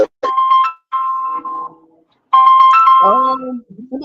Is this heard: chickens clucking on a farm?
no